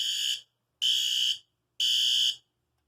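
Three loud, evenly spaced blasts from conventional fire alarm horns, each buzzing tone lasting about half a second with short silent gaps between, heard close and clear with no talk.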